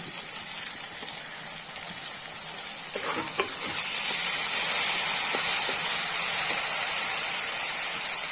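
Ginger garlic paste frying with onions and tomatoes in a pan for Chettinad prawn thokku: a continuous hissing sizzle with brief stirring clatter, growing louder and steadier partway through.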